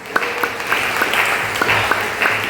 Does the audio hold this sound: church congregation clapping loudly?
yes